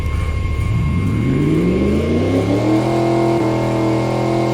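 A 1967 Shelby Cobra's engine revs up from idle, its pitch climbing steadily and then holding at a loud, high steady roar with no talking.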